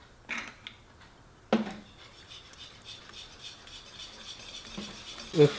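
Quiet scraping and rasping of a spoon stirring a thick cheesecake mixture in a bowl, with a few sharper knocks against the side.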